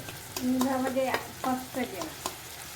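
A spatula stirs onions frying in a pan with tomato, curry leaves, ginger-garlic paste and asafoetida for a Konkani cashew curry, making several squeaky scraping strokes over a light sizzle.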